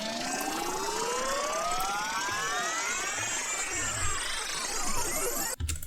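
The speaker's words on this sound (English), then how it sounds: "We have some risers that I made in Serum." Synth risers made in the Serum software synthesizer for an electronic track, with dense layered tones sweeping steadily upward, loud and continuous, ending in a brief cut and burst.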